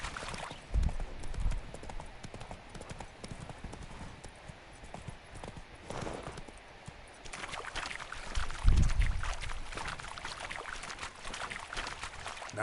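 Video game horse Roach galloping, steady rhythmic hoofbeats with a rushing background wash throughout, no voices.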